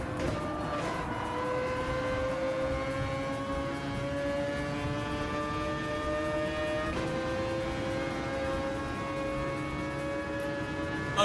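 A race car engine in a racing video game hums steadily with rising tonal revs, dropping once midway then climbing again, loud and continuous with no talking.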